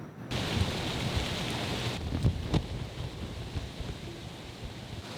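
Strong storm wind at night with heavy rain rushing steadily and loudly throughout, with a few sharper gusts or impacts partway through and no talking.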